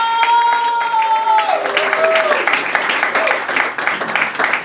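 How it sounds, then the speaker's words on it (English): Comedy club audience clapping as a comic is introduced, building into dense applause after a loud tonal cheer or voice at the start, with whoops and crowd noise mixed in. "Everybody, start clapping! Start clapping!"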